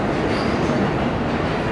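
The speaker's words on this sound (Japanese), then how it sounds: "向かい側15番線は池袋上野方面行き山手線到着です" A Yamanote Line train, an E235 or E231-500 series set, rolls into Shinjuku Station with a loud, continuous, dense rush of wheel and rail noise. The sound stays steady throughout this short moment, with no one speaking.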